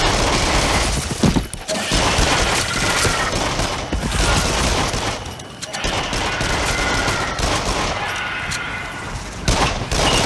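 Rapid, dense gunfire blasts at monsters and a giant spider in the Rush of Blood VR horror rollercoaster shooter on PS5, loud and near with bursts of repeated shots and booms, and no talking.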